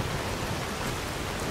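Heavy rain pours down in the video game Skyrim, a dense, even wash of noise that stays steady and fairly loud for the whole short stretch.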